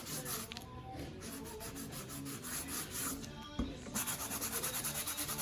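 Steady abrasive rubbing and scraping as white rubber is lightly sanded, close and continuous, with a brief knock partway through and a rhythmic back-and-forth stroking toward the end.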